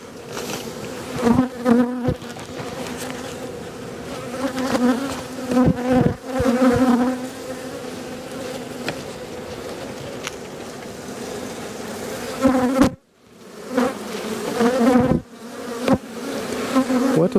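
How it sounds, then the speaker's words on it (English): Honey bees buzz steadily around open hive frames in an Australian bee yard, a loud close drone with occasional louder passes and handling noises throughout. "A lot of bees actually."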